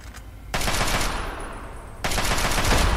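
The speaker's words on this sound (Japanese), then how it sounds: "おお、爆発するわ。" Explosion and gunfire in the video game Fallout 3, rapid machine-gun bursts in two loud dense volleys with a brief dip between, close and dominant with no talking.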